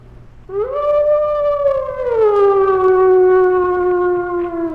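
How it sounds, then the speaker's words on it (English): A single long wolf howl rises quickly, holds a rich harmonic tone, then slides down to a lower sustained note, loud and clear, with a faint second voice near the end. "That eerie wail that is by far the most significant call of all animals. The howl."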